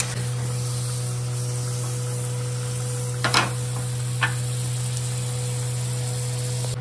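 Chopped onions frying in butter in a kadhai for dhaba-style kadhai paneer, a steady close sizzling hiss with a low hum underneath and a couple of brief stirring scrapes, no talking.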